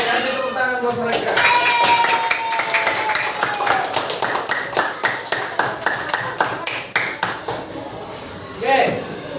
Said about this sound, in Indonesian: kasih tepuk tangan buat mereka